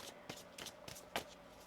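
Tarot cards being shuffled by hand during a reading, giving several soft riffling bursts at irregular intervals, close and fairly quiet, with no talking.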